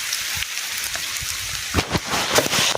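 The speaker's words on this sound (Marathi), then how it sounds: "पाऊस पडतंय" Rain falls over farm fields in a steady, close patter, with heavier drops striking nearby surfaces in uneven bursts toward the end.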